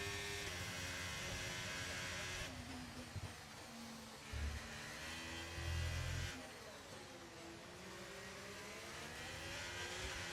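Simulated Formula 1 car engine from the racing game F1 23, a steady high-pitched whine that rises and falls with revs and gear changes, loud and continuous throughout.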